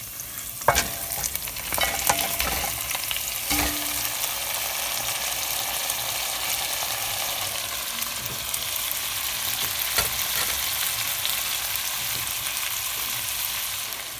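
Onions and thyme cook down in a pot for Jamaican oxtail, a constant broad sizzling hiss with spoon scrapes and occasional clicks of stirring throughout.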